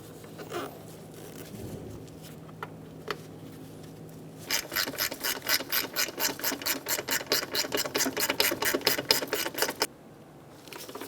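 Ratchet wrench tightening an engine mount bolt on a 2003-2007 Honda Accord 3.0L V6, a fast run of evenly spaced clicking strokes lasting about five seconds, close and clear, after some faint handling noises.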